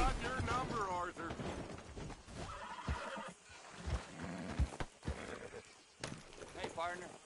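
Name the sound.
horse neighing in video game Red Dead Redemption 2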